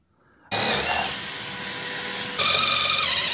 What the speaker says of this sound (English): I'm gonna drill down pretty deep right there